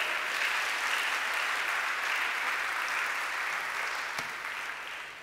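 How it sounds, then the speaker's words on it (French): A church congregation at a Sunday service applauds in a steady, dense wash of clapping that holds for several seconds and then slowly fades a little. "Acclamons le Seigneur."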